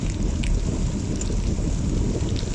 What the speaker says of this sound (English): rain is pelting down a bit